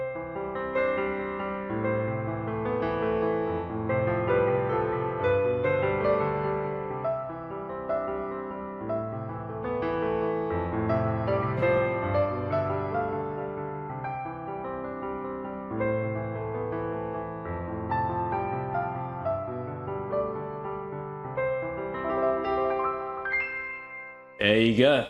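A piano plays a repeating left-hand ballad pattern under a chord progression, with flowing broken-chord notes that carry on steadily for about twenty-five seconds before a brief pause and a final struck sound.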